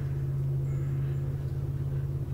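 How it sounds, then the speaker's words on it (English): A car approaches on a road, heard as a steady low engine hum that stays fairly faint and distant throughout. "That's a car."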